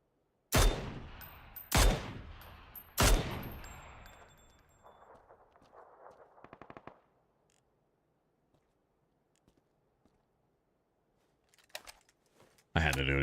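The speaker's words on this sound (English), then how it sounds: "Someone's shooting down over here." Gunfire in PUBG, three loud sharp shots spaced about a second apart, each ringing out, followed by quieter rapid bursts and ticking, then near silence before a final loud burst.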